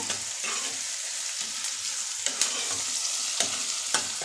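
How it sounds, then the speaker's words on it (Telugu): Curry leaves frying in a pan for a quick egg fry make a steady, loud sizzle. A spoon stirs and scrapes at irregular intervals, and no one speaks. "రెండు రమ్మల కరేపాకు కూడా వేసుకుంటున్నాం ఈ కొద్దిగా వేగనిద్దాం"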